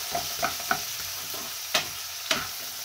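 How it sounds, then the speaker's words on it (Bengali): Bay leaf and garam masala frying in a pan, with a soft continuous sizzle and a few sharp scraping clicks of a spatula stirring, close by. "একদম হালকা করে ভাজা হবে তেজপাতাটা।"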